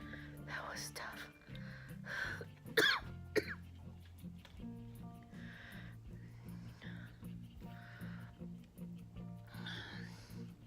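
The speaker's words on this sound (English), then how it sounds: "I'm not supposed to be coughing." Adult recovering from a tonsillectomy coughing and clearing the throat in a few quick, harsh bursts near the middle, over quiet whispered talk and a low background hum.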